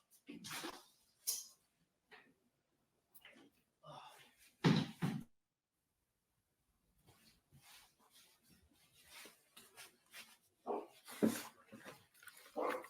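A dog barks and whimpers indoors in scattered bursts, some sharp and close, others quieter. Short pauses separate the bursts, and a person talks in between.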